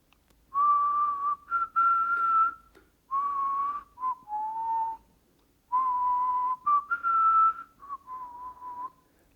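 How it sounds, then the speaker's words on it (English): A person whistles the slow Going Home theme from Dvořák in several clear phrases with short pauses, close and alone. "and then I whistle back."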